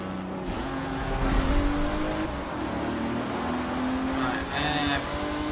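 An Aston Martin race car engine hums and revs steadily with rising and falling tones in a Forza Motorsport 7 circuit race, a second car's whine joining near the end, loud and continuous.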